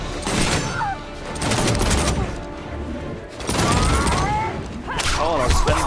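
Rapid bursts of gunfire and mechanical weapon effects from the fighting game Injustice at a tournament match, loud and repeated in clusters, with commentators talking over the action.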